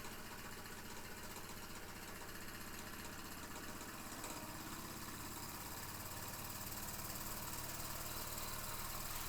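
Empire Metal Ware No. 62 toy steam engine, roughly 80 years old, running very fast with a steady, close mechanical whir and rapid rhythmic chugging that holds at the same level throughout.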